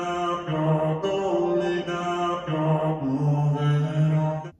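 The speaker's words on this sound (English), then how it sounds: "We have a new vocal chop." A sad, emotional vocal chop melody plays from a sampler, sustained pitched vocal fragments shifting note to note in a short phrase, clear and upfront with no talking.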